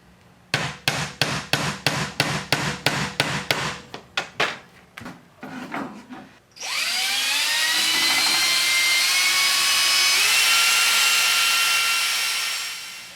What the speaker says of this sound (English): The next step is to make a dent into the metal so that when we put our metal drill bit in there, it'll have a indentation to follow.